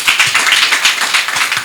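An audience applauds a speaker named Loris at a talk on teaching AI in Africa, giving a short burst of dense, close, brisk clapping with no voices over it.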